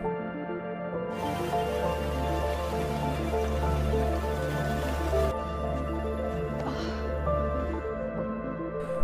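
Steady rain falls through a forest in a dense, continuous wash that holds even throughout, with a low tonal bed beneath and no voices.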